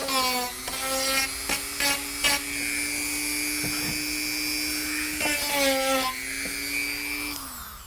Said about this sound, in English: you can just use your Dremel tool and just kind of, you know, nick them and they'll come off